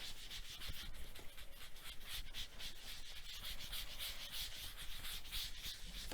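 Antique linen ink blended onto a card with a rhythmic, scratchy rubbing, quiet and close, repeating in quick strokes throughout.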